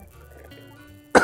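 A single sharp cough bursts out near the end after a quiet stretch of faint background hum.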